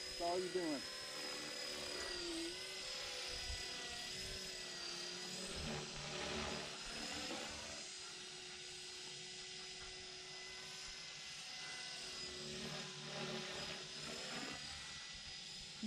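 A Blade 330X radio-controlled helicopter flying, giving a steady high-pitched whine and rotor buzz that runs throughout at moderate distance, with people talking over it.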